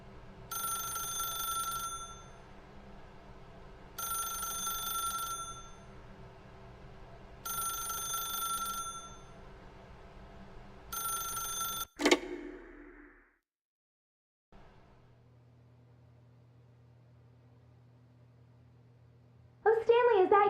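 A telephone rings in The Stanley Parable video game, four evenly spaced electronic rings, then a click as it is picked up, a pause of near silence, and a brief voice at the end.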